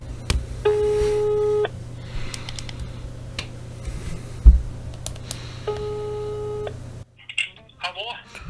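Two bursts of repeating electronic ringback tone from an outgoing phone call, each a steady buzz with short gaps, over a low hum and faint background voices, then quiet with a brief rustle.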